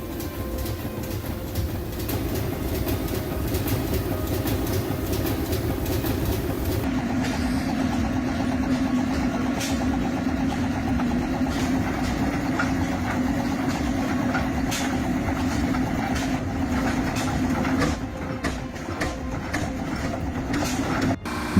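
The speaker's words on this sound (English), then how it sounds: "a big flywheel is turning slowly and heavily, keeping the shaft from jerking" Steam engine running with a big flywheel turning slowly and heavily, a steady loud mechanical rumble with regular rhythmic thumping and no talking.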